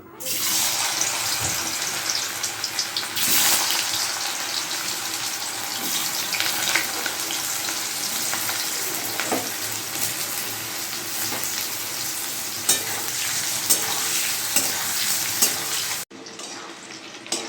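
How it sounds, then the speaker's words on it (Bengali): Potatoes fry in hot mustard oil in a kadai, a loud continuous sizzle and crackle with occasional scraping and stirring, close up, cutting off abruptly to quieter sizzling near the end. "তো তেলটা গরম হয়ে গেছে, আলুগুলো ভেজে নেব।"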